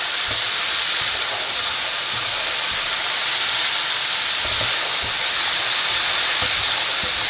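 Breakfast burrito filling frying in a pan, a loud steady close hiss of sizzling oil that runs unbroken throughout with faint clicks underneath, no talking.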